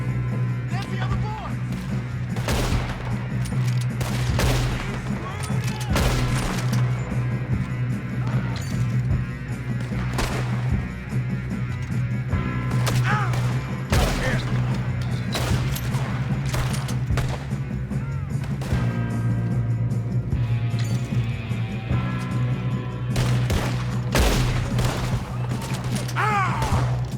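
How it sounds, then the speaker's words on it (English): Gunfire in the video game Red Dead Redemption 2 plays out as repeated sharp shots and bursts over a constant background hum, scattered irregularly throughout, with voices speaking in between. "Good shooting, kid."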